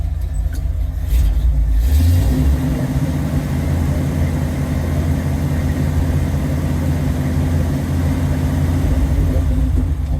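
Engine of a Ford Early Bronco on a test drive, a loud, close, steady low rumble that rises briefly early on and then holds at a constant drone throughout.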